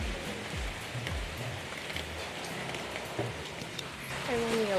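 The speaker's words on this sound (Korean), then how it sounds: "비가 오고 있어요" Steady rain falling in Ubud, Bali, a constant dense patter on surfaces filling the background, with a faint voice or other sounds briefly mixed in near the end.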